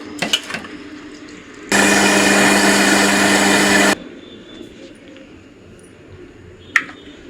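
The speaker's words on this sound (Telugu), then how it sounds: "ఇప్పుడు ఇవన్నీ మనం మిక్సీ పట్టేసుకుందాం" A mixer grinder whirs loudly and steadily for about two seconds as it grinds soaked rice, fenugreek seeds and curd into batter. A few handling clicks and knocks come before and after the burst, and no one speaks.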